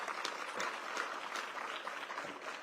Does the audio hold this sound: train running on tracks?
no